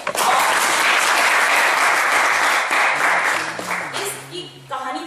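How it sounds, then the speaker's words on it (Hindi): Loud, dense audience applause in a theatre at a Hindi stage play in Jaipur, a close, sustained burst of clapping that fades toward the end as a voice and music begin to come through. "जोरदार तालियां उनके लिए।"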